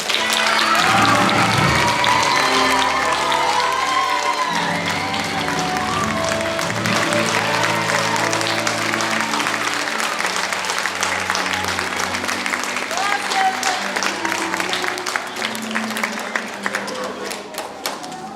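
Audience applause at a fifth grade farewell assembly, loud sustained clapping from a large crowd with cheers and voices mixed in, continuing steadily before thinning toward the end.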